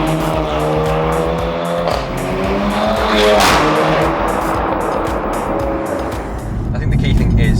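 VW Golf R fitted with an Akrapovic exhaust, revved hard nearby with loud rising and falling engine tones that stay strong and continuous throughout.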